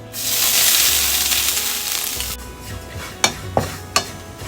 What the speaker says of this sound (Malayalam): ഇനി നമുക്കിതിലേക്ക് തേങ്ങ ഇട്ടൊന്ന് നന്നായിട്ടൊന്ന് മൂപ്പിച്ചെടുക്കണം.